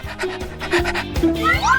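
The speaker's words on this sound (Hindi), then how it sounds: "अब मेरे पास आओ मेरे वफादार पपी" A puppy pants in quick, steady, close breaths, with a brief squeaky sound rising at the end.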